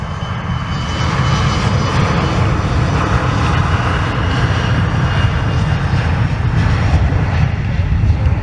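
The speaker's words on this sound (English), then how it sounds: "We have confirmed Lufthansa is here, gracing Charlotte with the one long-distance arrival that is not American" Lufthansa Airbus A330 airliner arriving at Charlotte airport, its jet engines giving a loud, steady, close roar that fills the whole stretch without a break.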